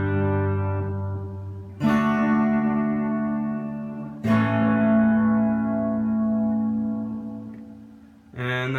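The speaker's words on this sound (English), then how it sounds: "Sounds really fat, has a lot of echoes" Electric guitar played through a vintage Ace Tone EC-10 echo chamber, three struck chords each ringing out thick and sustained with repeating echoes and a chorus-like shimmer, decaying slowly before the next strum.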